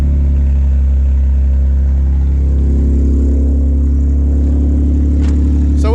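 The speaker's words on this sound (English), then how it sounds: "car starts right up." Nissan VQ-engined car already running after starting up, a loud, steady low idle rumble with a slight clatter and a brief sharp knock near the end, no talking.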